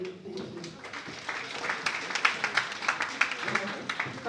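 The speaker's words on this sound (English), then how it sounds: "I want everybody to clap hands for him" An audience at a Rwanda Women's Day 2024 gathering claps for an honoree, a loose patter of hands that grows into a denser ripple of distinct claps after a murmur of voices at the start.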